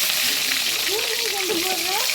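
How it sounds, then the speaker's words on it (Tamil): Curry leaves hit hot oil already browned with fenugreek seeds and crackle in a steady, close sizzle for a fish and field-bean curry, with a few faint tonal squeaks over the frying. "அடுத்து கருவேப்பிலை போடுறேன்."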